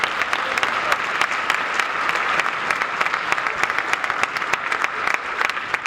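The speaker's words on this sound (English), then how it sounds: "So I want to give a round of applause to the John Jay High School band directors" Sustained applause from a concert audience at a high school band winter concert, a dense, even clatter of many hands clapping for several seconds, with no speech over it.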